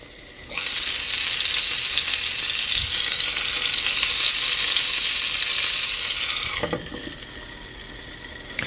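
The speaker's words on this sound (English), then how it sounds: "Putting the lid on it definitely helps with splattering." A hamburger fries in a Nostalgia MyMini skillet, a loud hissing sizzle of spattering hot grease that swells for several seconds, then drops back to a quieter crackle with a couple of lid clanks.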